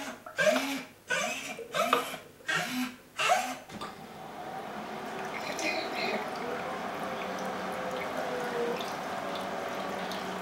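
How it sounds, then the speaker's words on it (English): Water recirculating through a Brewie brewing machine during its cleaning cycle: several rhythmic gurgling pulses at first, then a steady close rush of flowing water, with people talking over part of it. "we've got water recirculating and coming into the boiling tank and circulating straight out into the drain hose"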